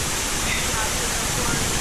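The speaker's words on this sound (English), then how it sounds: "right now we are at the cliff of water, Falling Springs" Steady broadband rush of water from Falling Spring Falls, a cliff-side waterfall, heard up close as a constant, loud roar with no breaks.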